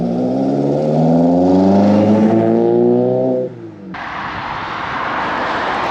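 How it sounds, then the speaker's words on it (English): A lowered Mk1 Volkswagen Caddy on twin Weber 45 carburetors drives along a scenic road, its engine droning loudly and steadily with rising harmonic tones before easing off, then a rougher, broadband road and exhaust rumble continues. "Well, we're on a lovely scenic test drive."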